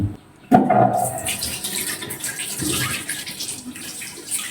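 Tap water runs into a bathroom basin for hand and face washing, starting with a sharp splash and then settling into a steady, close rush.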